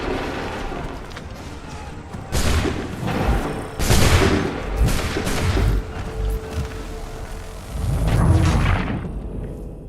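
Musket volleys fire on command in Assassin's Creed 3 Remastered, with several loud, broad cracks spread over about ten seconds that come in rough clusters rather than single clean shots, over a busy battlefield background.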